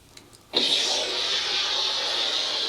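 A Korbanth Obi-Wan Kenobi lightsaber plays a Ghostbusters proton pack sound effect: a sharp ignition burst after a few faint clicks, then a steady, bright electronic hum that holds loud and close.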